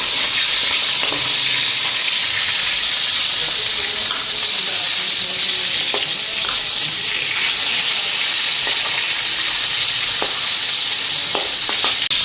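Oil sizzles and hisses steadily as fish fries in a pan, with occasional faint clicks of stirring and no talking.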